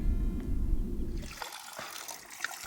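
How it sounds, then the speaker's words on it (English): Clear, ice-cold mountain water flows at a trail water point in the Dolomites, a steady trickling splash close by that starts after a muffled rumbling opening and continues alone. "we found it flowing with clear, ice-cold mountain water"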